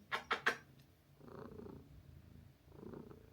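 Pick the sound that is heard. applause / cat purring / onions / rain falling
cat purring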